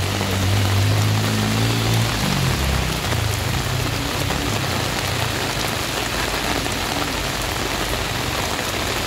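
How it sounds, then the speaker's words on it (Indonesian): Heavy rain pours steadily onto surfaces on a steep hill road, a dense continuous hiss, with a low engine drone that fades out in the first few seconds. "Hujan semakin kuat"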